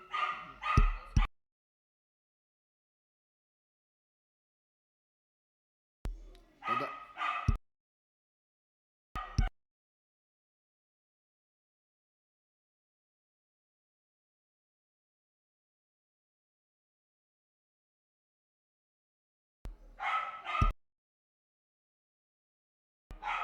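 Several small dogs bark in short separate bursts with long silences between, a quick cluster at the start, then a few more yaps later on, fairly close and clear with no talking.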